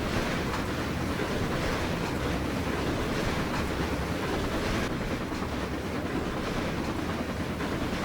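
A steam train rolls continuously along rails, giving a dense, steady rumbling roar with faint rhythmic clatter that stays at an even level throughout.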